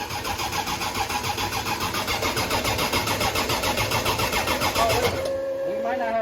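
A car engine with high compression cranks over and over in a fast, steady, rhythmic chugging for about five seconds, then stops abruptly, leaving a faint whine and quiet background.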